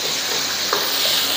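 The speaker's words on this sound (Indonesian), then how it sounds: "sekarang kita nak buat nasi goreng ayam" Chicken fried rice stir-frying in a hot pan, a loud steady sizzle with a brief scrape of stirring, no talk.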